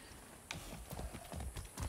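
Rhythmic hoof clip-clops of a horse at a steady gait in the video game Far Cry 6 over a low, continuous background hum, sharp and fairly close, with no talking.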